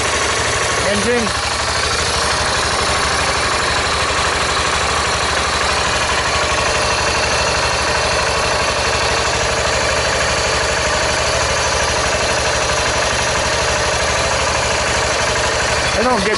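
A car engine idles steadily and close by, a continuous low rumble with a faint vibrating hum that holds even throughout.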